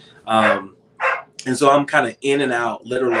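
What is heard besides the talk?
dog barking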